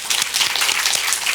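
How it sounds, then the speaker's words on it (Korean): An audience claps at a church summer retreat, a short dense burst of applause that carries on without pause. "박수"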